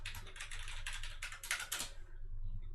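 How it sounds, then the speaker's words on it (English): A password is typed on a computer keyboard, a quick run of soft clicking keystrokes in short bursts, close and quiet, fading out at the end with no one speaking. "You would type in your password."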